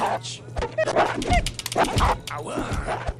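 A dog in a video game yips and barks in short, repeated bursts that overlap with close, excited talking throughout.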